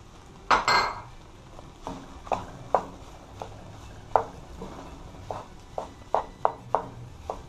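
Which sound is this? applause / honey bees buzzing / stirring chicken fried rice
stirring chicken fried rice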